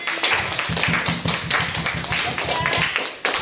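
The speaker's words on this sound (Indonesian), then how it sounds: "kasih tepuk tangan." An audience at a school presentation claps together in a fast, steady burst of applause lasting a few seconds, fairly close and alone without talk.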